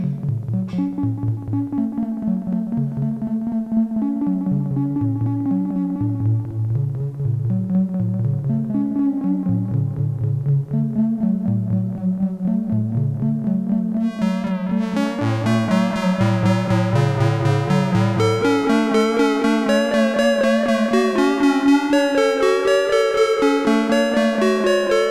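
Soft sine-wave synthesizer tones in a looping melodic pattern through a Dreadbox Nostalgia 3-stage delay module, each note trailing gentle echoes; the sound brightens and thickens partway through, with no talking.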